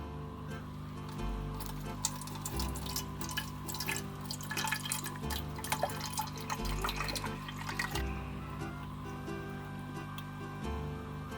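Water pours and spills into an aqua dragons tank, with irregular splashes and drips trickling throughout, fairly close and moderately quiet.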